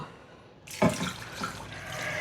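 Water begins pouring suddenly and splashes steadily into a cooking pot of pork sisig, close and moderately loud, no talking.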